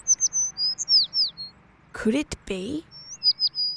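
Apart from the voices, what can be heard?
sparrow chirping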